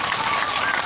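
Audience at a Bhagavat Katha clapping together, a dense, loud burst of hand claps filling a brief moment.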